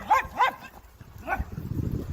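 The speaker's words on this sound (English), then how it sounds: "that sheep is actually barking" A sheep that sounds like it is barking, played back from a recording: two quick bark-like calls close together, then a third after a pause, against a low rumbling background.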